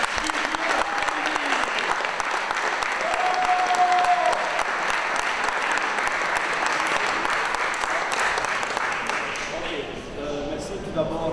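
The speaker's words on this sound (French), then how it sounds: "Bon, applaudissez-le s'il vous plaît." An audience applauds a Liège Basket coach at a team presentation held in a garage, a dense, steady clapping from a sizable crowd that stays loud and even, then thins slightly near the end.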